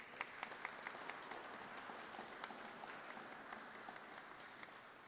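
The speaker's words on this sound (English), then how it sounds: "Let's give them another round of applause." A round of applause for award recipients at an International Day of Persons with Disabilities ceremony: a crowd claps steadily at a distance, faint but continuous, with a few sharper claps standing out.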